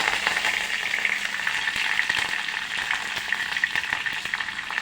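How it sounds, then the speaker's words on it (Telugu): Crushed garlic and curry leaves for a tempering sizzle steadily in hot oil in a pan off the stove, a dense, continuous crackle with small pops, close and fairly loud throughout with no voices. "ఒక 1/2 టీ స్పూన్ పసుపుని వేసి పోపుని దీంట్లోకి వేసుకోవాలి."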